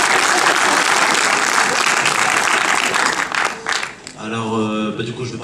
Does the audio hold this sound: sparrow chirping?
no